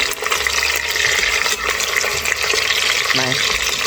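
Lemon pepper chicken pieces sizzle loudly as they brown in an Instant Pot. Steady frying crackle runs throughout, with scraping and clinks as the pieces are turned over.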